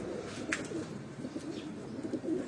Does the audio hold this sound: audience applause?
no